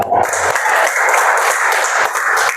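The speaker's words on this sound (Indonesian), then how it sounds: "Tepuk tangan dulu." A classroom of students applauding together, a dense, steady burst of clapping that fills the whole moment, loud and close.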